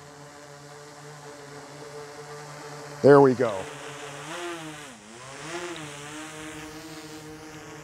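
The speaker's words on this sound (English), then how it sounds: "your props are making a lot of noise" Autel Evo II Enterprise drone propellers hum steadily in flight with stacked tonal harmonics, close by, with a brief louder rising whine midway as the drone maneuvers, while a person speaks briefly over it.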